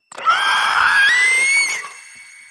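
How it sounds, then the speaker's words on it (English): A single loud, piercing shriek rises steadily in pitch for about two seconds, then cuts off abruptly into silence. No other sounds accompany it. "You hear one of those shrieks in your mind."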